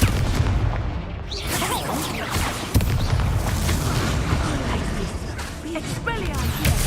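Confringo spell explosions in the Hogwarts Legacy video game: repeated loud booms and crashing bursts, including a sharp hit near the three-second mark, mixed with ongoing battle effects and voices talking throughout.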